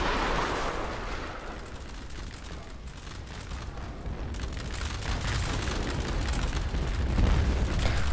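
Artillery fire in the Roblox game Conquest, a heavy, continuous barrage of booming explosions and crackling blasts that builds slightly in loudness toward the end.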